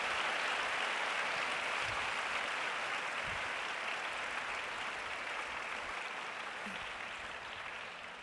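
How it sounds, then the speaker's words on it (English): Sustained audience applause fills the whole stretch, a dense, even wash of clapping from a large crowd that stays loud and steady before easing slightly near the end. "So very, very big round of applause for all those who have worked"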